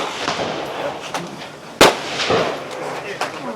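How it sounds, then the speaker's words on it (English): Pistol shot at a men's 40+ regional shooting competition stage, one sharp loud crack standing out near the middle, with fainter bangs and background voices around it. "We'll have one more sequence with the pistol."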